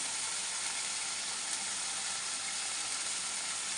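Cumin and coriander sizzle in a hot pan, a steady close frying hiss with soft crackle, continuous and even with no talking.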